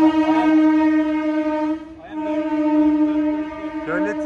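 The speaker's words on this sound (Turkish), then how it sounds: "Şöyle tren yine geçiyor." A train in Kolkata, India, passes close by, sounding long sustained horn blasts that dip briefly near the middle and then continue loudly, with voices faintly underneath.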